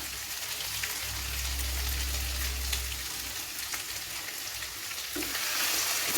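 Chicken chukka roasting in oil with coriander, stirred in the pan: a continuous close hiss and crackle of frying with occasional scrapes and light knocks of the spatula, no voices.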